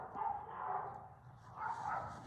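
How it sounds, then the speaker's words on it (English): Two dogs bark in a short, somewhat aggressive burst, fairly faint and a little distant indoors, with the barking coming in two waves. "Did you hear that? My 2 dogs. It sounded a little bit aggressive."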